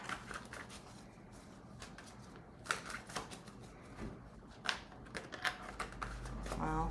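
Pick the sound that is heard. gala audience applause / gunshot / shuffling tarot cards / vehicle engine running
shuffling tarot cards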